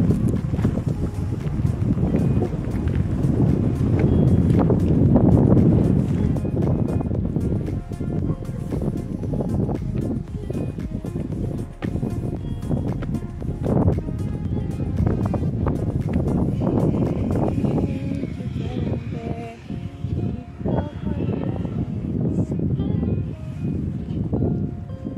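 Wind blowing outdoors near the town of Tata, Hungary, a steady rushing buffet on the microphone that stays loud throughout with gusty swells, while someone talks faintly and intermittently.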